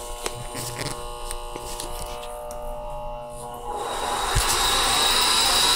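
A Bison Centurion vacuum cleaner switches on partway through, its loud broadband roar rising and holding steady after an electrical hum and scattered handling clicks.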